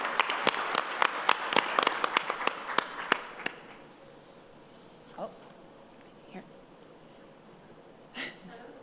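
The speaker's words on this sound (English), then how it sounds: "give a round of applause for yourselves for hanging in there, and for our wonderful panel" Audience at an early childhood policy panel giving a round of applause, a scattered burst of claps that thins out after a few seconds, leaving only a few faint sounds.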